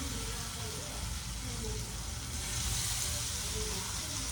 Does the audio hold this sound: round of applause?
no